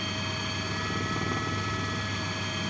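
A helicopter drones steadily with a continuous rotor thrum, loud and unbroken throughout, over a rainy road cycling race stage.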